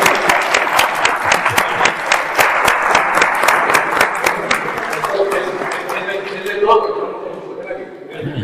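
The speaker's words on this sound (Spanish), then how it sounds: "Le damos un aplauso." Audience applause at a Carmelite spirituality talk on the scapular, a dense wash of many hands clapping loudly for several seconds, then thinning and tapering toward the end as a few voices come in.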